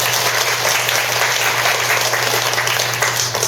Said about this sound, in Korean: 사부대중들께 큰 박수 부탁드리겠습니다.